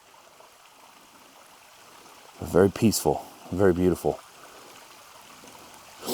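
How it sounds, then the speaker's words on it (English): A little desert creek near the Spiral House ruins, fed by runoff, trickles faintly and steadily over rocks in the background while someone speaks briefly in the middle. "that is just feeding right down into a little creek"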